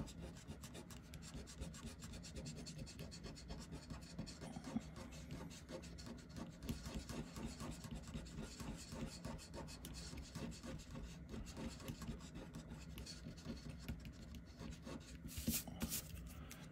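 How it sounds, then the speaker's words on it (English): An eraser rubs inside a pencil drawing of a pumpkin on paper, a steady, quiet, close-up scratchy rasp running continuously with no talking. "we'll erase inside the pumpkin"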